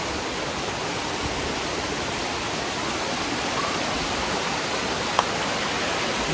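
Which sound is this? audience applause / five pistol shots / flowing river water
flowing river water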